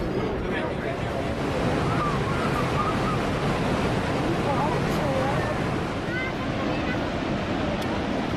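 Niagara Falls waterfall rushing, heard through playback in a church service as a broad, steady roar with wind-like noise, faint murmuring voices and a few brief tonal sounds in the background.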